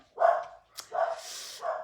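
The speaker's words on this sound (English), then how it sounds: "my dogs are going to bark" Dogs bark at a postman arriving, three loud close barks spaced across under two seconds with no talk over them.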